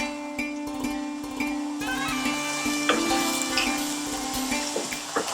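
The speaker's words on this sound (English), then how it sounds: "What we're going to do now is add our garlic and ginger paste, and we're going to cook this out for about 1 minute." Garlic and ginger paste sizzles with onions in a hot pan for a fish curry, a steady close frying crackle over a persistent background hum, with occasional stirring clicks.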